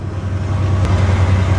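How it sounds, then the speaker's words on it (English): Loud, low engine rumble of a heavy truck passing nearby at an oil sands site, steady and close throughout the short stretch. "There goes one of the trucks."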